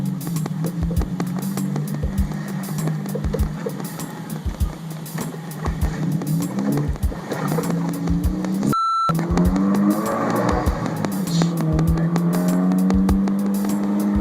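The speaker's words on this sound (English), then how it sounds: "we're doing a road test, and things feel pretty good. I'm shifting and getting into the other gears" A manual-transmission car on a road test, engine droning and rising and falling as gears are shifted, with repeated clicks or ticks, a brief beep partway through and no talking.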